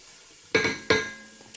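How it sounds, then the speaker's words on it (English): A spoon stirs chicken tagine ingredients in an oiled pan, giving two sharp, close metallic clanks about a third of a second apart, with quiet between them. "Just going to give this a stir."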